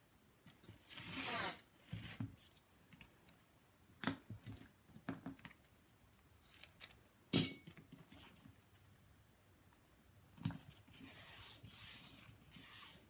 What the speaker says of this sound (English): I'm going to cut it so it's straight. I'm going to connect those two black tapes so it won't look messy.